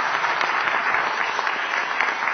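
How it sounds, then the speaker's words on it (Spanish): Dense, steady applause from a conference audience for an engineer at the end of his talk, a continuous wash of many hands clapping at full strength with no voices on top. "Fuerte aplauso entonces para el ingeniero Breogán Gonda"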